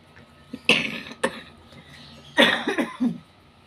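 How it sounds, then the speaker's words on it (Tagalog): An elderly grandmother coughing indoors, two separate bursts of harsh close coughs, the second a quick cluster, with quiet pauses between. "Inuubo-ubo pa ang lola."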